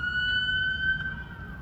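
A steady, high-pitched siren tone over low traffic rumble, moderately loud and continuous, with no voices.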